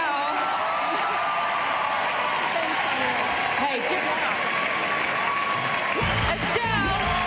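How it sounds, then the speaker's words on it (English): A live studio audience at a Big Brother Australia launch night applauds and cheers a housemate, a dense, loud, steady wall of clapping with whoops, while a host speaks briefly over it. "Give her a big round of applause."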